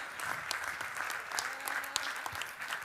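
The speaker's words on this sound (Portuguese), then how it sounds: "Não, você pode dar um aplauso." A church congregation claps together at a Bible study, a dense, sustained patter of many hands filling the room, with faint voices underneath.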